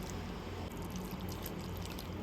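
Two cups of water poured over palappam batter ingredients of cooked rice, coconut, yeast and sugar, a steady close splashing pour running alone without a break.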